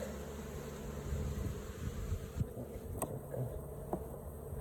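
Honey bees buzz in a dense, continuous hum close by at a hive during a winter colony inspection, with a few sharp clicks and knocks breaking through the steady drone.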